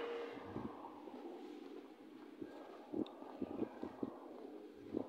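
Faint, low rumble of a train with soft rhythmic clacks and distant hiss, heard from afar inside a huge train station in East Germany.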